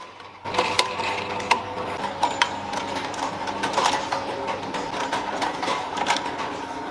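An automated precision spring bending machine forms thin wire into springs, producing a steady mechanical whirr with repeated clicks and sharp ticks throughout, fairly close and continuous with no talking.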